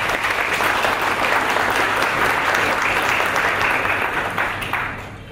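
An audience in a museum of coins and medals in Częstochowa applauds guest Eugeniusz Mróz, a sustained, loud wash of many hands clapping that fades toward the end.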